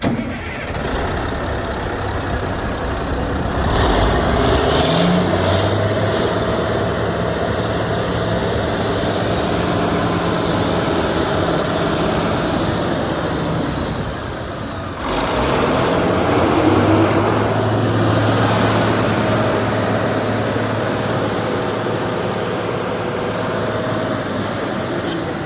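Caterpillar SS250B machine engine running, a loud steady diesel drone that dips and restarts midway before settling back into a strong idle, with people talking nearby.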